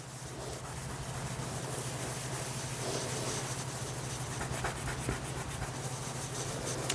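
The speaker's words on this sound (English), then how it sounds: "Take a scouring pad and just kind of buff this in and see how easy this comes off." A scouring pad buffs a cleaning product into a kitchen surface with a continuous close-up rubbing and scrubbing texture, steady and even throughout, over a low background hum.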